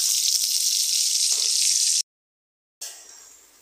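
Potatoes frying in a pan and being turned, a bright hissing sizzle for two seconds, then a brief silence before the sizzle returns and slowly fades.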